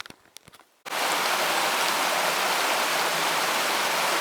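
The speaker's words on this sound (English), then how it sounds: "The water of Boston Hollow Brook flows gently down Pixie Falls here in the Natchaug State Forest in Connecticut" Boston Hollow Brook pours down Pixie Falls in the Natchaug State Forest, Connecticut: after a brief quiet moment with a few faint knocks, a loud, steady rush of falling water fills the rest, close and unbroken.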